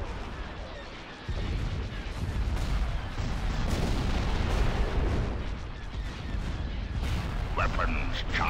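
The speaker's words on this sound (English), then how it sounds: "Open fire on those laser cannons" Laser cannon fire in a Star Wars space-strategy game sounds as a dense, continuous roar of heavy booming blasts and crackling bursts, loud and sustained after a quieter opening, with sharper zaps near the end.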